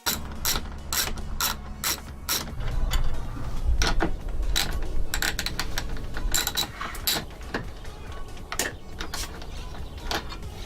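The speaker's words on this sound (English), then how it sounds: "just grab yourself a 10 mil socket and you got to remove the bolt here and here" A ratchet with a 10 mm socket turns out dashboard bolts in a Toyota 86/Subaru BRZ/Scion FR-S, giving repeated sharp clicking runs with short pauses, close and clear, with no talk.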